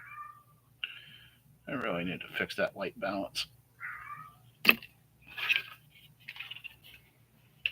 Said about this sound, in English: my cat's down here in the basement